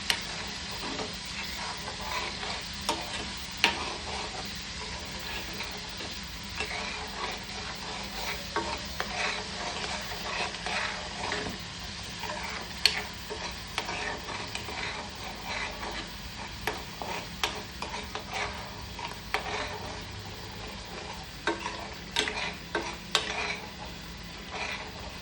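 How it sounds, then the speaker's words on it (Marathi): Green curry spice paste fries in oil in a pan while being stirred continuously, giving a steady sizzle with frequent spoon scrapes and clinks against the metal, close and fairly loud for about twenty-five seconds, with no voice. "वाटण असं हलवत राहायचं।"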